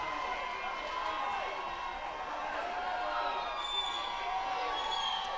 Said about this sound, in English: you can hear and see the pro Rhema crowd get fired up